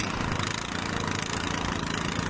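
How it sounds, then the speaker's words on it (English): A snowblower engine runs continuously and loud at close range, a dense rough drone with no pauses, in wet, sticky snow beside a garage. "So, got out the snowblower."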